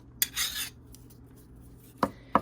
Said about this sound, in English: by just laying your file down, and then you're going to rotate the piece of tubing on